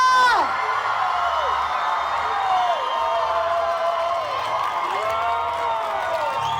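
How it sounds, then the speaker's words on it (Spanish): A festival crowd at a Latin Fall Fiesta in Yonge-Dundas Square, Toronto, cheers and whoops continuously, a loud sustained roar with rising and falling shouts, while an amplified announcer's voice rings over it. "¡Fuerte el aplauso para Colombia!"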